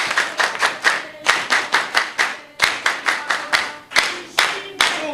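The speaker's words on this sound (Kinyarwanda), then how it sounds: "Ariko reka tuyikomere amashyi ya special Imana." A church congregation claps together in praise of God, a loud, rhythmic series of unified bursts in steady beats, pausing briefly between rounds.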